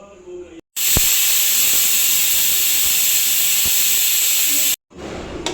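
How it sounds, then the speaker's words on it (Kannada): A pressure cooker cooking egg and chicken sambar lets out a loud, steady steam whistle and hiss lasting about four seconds, cutting in sharply and stopping abruptly, with quieter kitchen noise before and after. "ಈಗ ಕುಕ್ಕರ್ ಮುಚ್ಚಳ ಹಾಕಿ ಒಂದು 5ರಿಂದ 6 ವಿಸಿಲ್ನ ಕೂಗಿಸ್ಕೋಬೇಕು."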